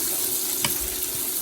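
Onions sautéing in a frying pan give a steady, close sizzle and crackle, with a short scrape or stir partway through and no talking.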